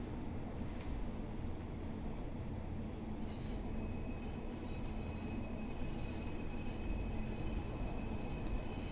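A Class 142 Pacer train running, heard as a steady low rumble of wheels and engine with rail clatter and a faint high squeal, even and continuous throughout, without talk.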